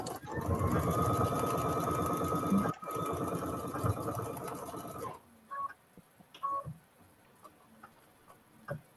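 A sewing machine stitching log cabin quilt blocks runs in a fast, steady close-up whir for about five seconds, then stops, leaving scattered small clicks and handling noises.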